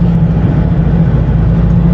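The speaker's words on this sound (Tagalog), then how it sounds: "Malakas, malakas ang engine brake niya." A steady, loud low engine drone with a heavy rumble from a 2024 Foton Traveller X 2.0 diesel van engine braking in third gear, continuous throughout with no talk.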